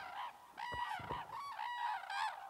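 Red-crowned cranes call in a Japanese wetland, loud repeated honking, trumpeting cries in several bursts, close and clear with no talking.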